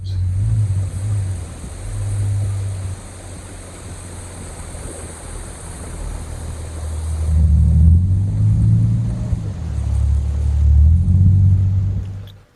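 An old car engine, just started after a struggle, idles with a low steady rumble that swells louder and rougher partway through, running alone without voices.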